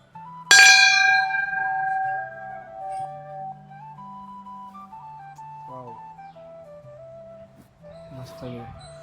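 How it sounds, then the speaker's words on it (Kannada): A temple bell is struck once at a Bangalore pink marble temple, ringing loud and clear, then a long shimmering tone fades over several seconds with faint voices nearby. "ಬೆಲ್ ಹೊಡೆದೆ."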